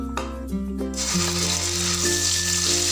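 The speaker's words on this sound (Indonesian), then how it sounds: "Minyaknya sudah panas, kita masukkan bumbu yang telah dihaluskan tadi." Ground spice paste drops into hot oil and bursts into a loud, bright sizzle that keeps frying steadily, over a low, sustained background hum.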